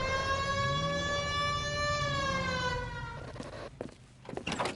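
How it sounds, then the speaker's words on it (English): Police car siren in the 1940s Los Angeles detective game L.A. Noire, a loud wailing tone rising and falling for about three seconds, then fading out beneath brief clatter. "Hit the siren."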